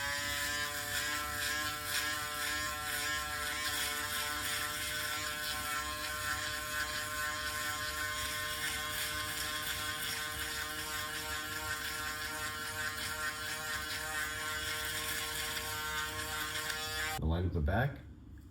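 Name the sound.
electric shaver trimming beard down to skin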